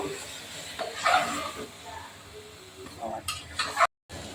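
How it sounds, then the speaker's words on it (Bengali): Mutton being stirred and mixed with spices in a pan for curry, soft scraping and clinking of a spoon against the pan with a faint sizzle, a few sharper metallic knocks near the end. "মাংসের সাথে মশলাটা ভালো করে মিশিয়ে নিব।"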